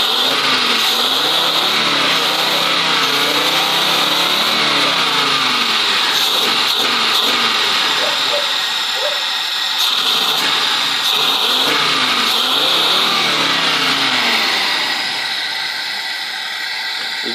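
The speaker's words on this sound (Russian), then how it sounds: "Движок прогреется, оно будет веселее работать." Audi 100 station wagon with a 2.3-litre carburetted engine idles while warming up from cold, a steady mid-pitched hum with a slight high whine and a faint fluttering roughness, heard close and alone.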